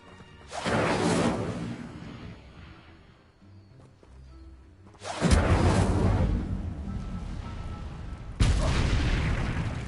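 Incendio fire spells cast in Hogwarts Legacy: three loud, booming bursts of flame, each a sudden whooshing blast that holds and roars before cutting off, with no talk over them.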